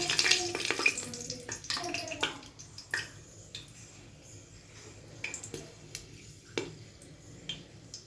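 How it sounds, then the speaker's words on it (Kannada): Whole spices (two cardamom pods, a cinnamon stick, three cloves and bay leaves) sizzle gently in hot oil for vegetable pulao, a soft crackle with scattered clinks of a pan and utensil, all nearby. "ಎಣ್ಣೆ ಕಾದಿದೆ. ಈಗ ನಾವು ನೋಡಿ 2 ಏಲಕ್ಕಿ, 1 ಚಕ್ಕೆ, 3 ಲವಂಗ, ಸ್ವಲ್ಪ ಎಲೆ ಹಾಕ್ತಿದ್ದೀನಿ"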